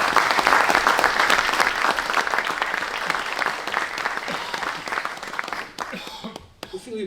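An audience in the Teatro Faialense applauds pianist Filipe Fonseca at a centenary celebration, loud sustained clapping and cheering that tapers off into a few last claps.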